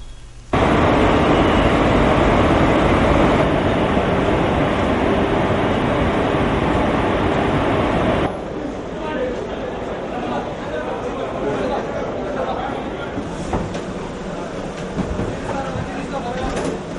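A train running on a railway line under heavy police deployment: a loud, continuous rumbling roar that drops to a quieter, rattling rush about halfway through.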